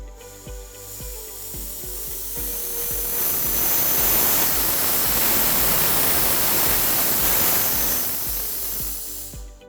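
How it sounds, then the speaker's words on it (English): Compressed air hissing steadily from an air gun on a compressor hose, rising and swelling in strength mid-way as the regulator pressure is turned up, then easing off near the end; loud, close and continuous. "we'll be able to use our air gun in order to hear the change in pressure as we adjust the regulator"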